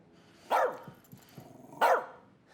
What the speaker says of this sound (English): Keep that dog quiet.